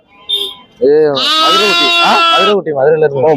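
Goat kids bleat loudly and close at the Melapalayam goat market, one long wavering cry followed by shorter calls, with a voice talking nearby.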